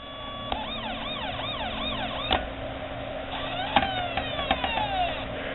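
A Federal Signal PA20A Interceptor electronic police siren box cycles through rapidly warbling and yelping tones, loud and continuous, with a few clicks as modes switch and no voices.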